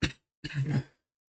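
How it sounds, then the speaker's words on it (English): Two quick coughs up close, a short sharp one followed by a longer, rougher hack, then silence. "excuse me, my cough"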